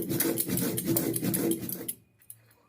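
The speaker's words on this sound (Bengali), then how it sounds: "মশলাটা আমি বেটে নেব আগে" Spice paste of green and dried chillies being ground by hand on a stone, a gritty rhythmic scraping in quick back-and-forth strokes for about two seconds, then stopping, followed by a couple of faint taps.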